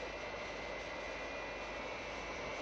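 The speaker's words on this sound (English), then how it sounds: "Captain Scarlet and Captain Blue have taken the controls, but the jet is not responding." A jet aircraft in flight in a 1960s Captain Scarlet puppet drama, losing control and not responding; a steady, dense engine roar fills the whole stretch without letup.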